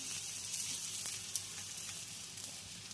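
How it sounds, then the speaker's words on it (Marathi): A bottle gourd dhapate flatbread lands on a hot pan and sizzles softly and continuously, with a single faint tap partway through. "असा आपल्याला अलगत हातावर घ्यायचा आहे धपाटा आणि असा टाकायचा आहे"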